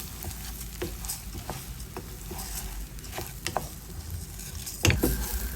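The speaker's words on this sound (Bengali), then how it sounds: "এখন চালটা ভালো করে ভেজে নেব।" Biryani rice is stir-fried with browned onions in a hot pan, giving a continuous close sizzle broken by repeated scraping stirs of the spoon, with a sharper clatter near the end.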